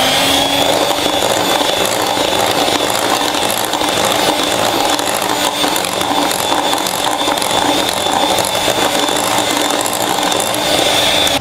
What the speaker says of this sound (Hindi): एक एक करके मैंने अंडा डाला है और बीट कर लिया